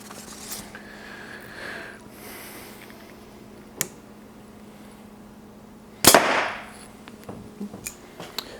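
A golf ball struck off a driver on a driving shot, one loud, sharp crack close by, following a few faint ticks and a quiet stretch.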